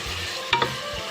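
Mutton pieces fry in ghee in a pan with a continuous hiss and sizzle. A quick double scrape of stirring briefly cuts through midway.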